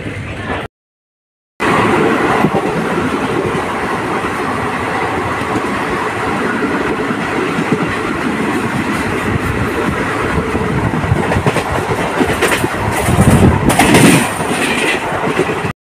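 Bundelkhand Express train 11107 running on rails between Prayag Junction and Bhadohi in India, a loud steady rumble with wheel clatter heard from inside the coach, briefly cut out near the start and swelling louder toward the end.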